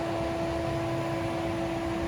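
An Air EV electric car's air-conditioning condenser fan whirs loudly and continuously, an even broadband rush carrying a persistent tonal hum, with no voices.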